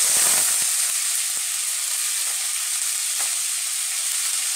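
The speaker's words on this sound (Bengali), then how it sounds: "তেলটা গরম হলে আমি চিংড়ি মাছগুলো ভেজে নেব।" Prawns frying in hot oil give a bright, steady hiss, with a burst of crackling at the start that settles into an even sizzle.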